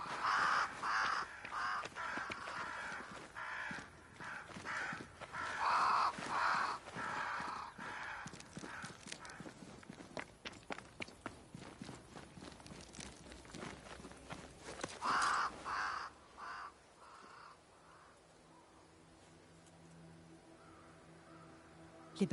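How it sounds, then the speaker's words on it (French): Crows cawing in the video game Banishers, repeated harsh caws from several birds over a scratchy, busy background for about fifteen seconds, then fading to a quieter ambience. "Des corbeaux. Ils se dirigent vers ce grand arbre là-haut."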